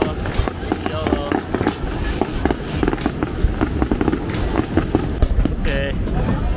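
Fireworks bursting over the Sumida River summer festival in Tokyo, heard as a rapid series of sharp, moderately distant pops and crackles with a steady crowd murmur underneath.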